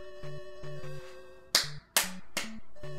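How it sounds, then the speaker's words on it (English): Three sharp hand claps ring out in a quick, uneven sequence, loud and close, over steady electronic retro video game music with a repeating chiptune bass pattern. "I thought you were clapping for me."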